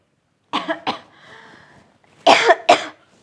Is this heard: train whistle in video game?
no